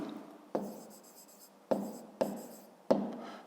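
Handwriting during a fifth-grade math exercise, a few close, quiet strokes of pen on paper broken by sharper taps or clicks roughly once a second, with no talking.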